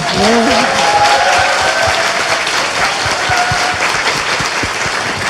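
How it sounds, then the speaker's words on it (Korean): Studio audience applause on a Korean talk show, a steady dense wash of many hands clapping that holds strongly throughout, with a brief voice or tone at the very start. "박수 부탁드립니다."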